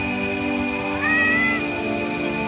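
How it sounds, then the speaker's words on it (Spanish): A stray cat meows once in a drawn-out cry, close and fairly loud, over a steady background hum with no talking. "les presento otro gato"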